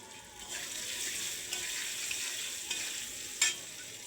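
Curry with ground spices sizzles softly in a pan while being stirred, a faint steady frying hiss broken by a few light scraping clinks, with no voices.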